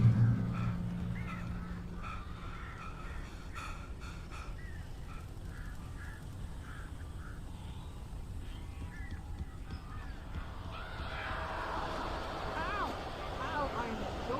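Birds honking and cawing inside a building in the Alan Wake video game, a cluster of harsh calls rising near the end over a steady ambient rumble, with someone talking earlier in the scene.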